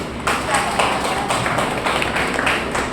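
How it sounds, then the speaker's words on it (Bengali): People at a social workers' meeting clap for a student, scattered and fairly close hand claps in uneven bursts, with some background murmur. "জোরে হাততালি হোক ওনার জন্য"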